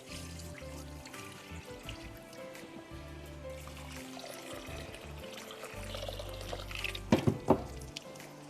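Rice for chicken pulao is rinsed in clean water, giving a continuous soft sloshing and trickling with a few sharper splashes and clinks toward the end.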